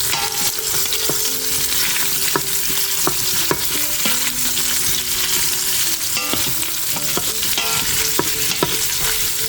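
Sausage browning in an Instant Pot, a steady oily sizzle with repeated scrapes and clinks of a utensil stirring it against the pot, close and without talk.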